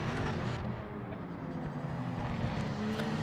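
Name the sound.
race car engine in Project Motor Racing video game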